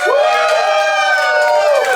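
A comedy club audience cheers and whoops loudly and steadily, a dense wall of many voices close by that holds for the full two seconds with no single speaker.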